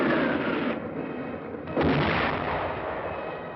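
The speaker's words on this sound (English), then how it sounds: "a wall of automatic weapon, mortar, and artillery fire" Battle din of automatic weapon, mortar and artillery fire: a dense, continuous roar of distant firing that dips briefly and then swells again, heard alone with no talk.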